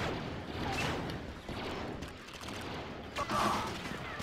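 Rapid bursts of blaster gunfire crackle through a Star Wars Battlefront 2 multiplayer match, dense volleys rising and falling with short gaps, with a player's voice mixed in.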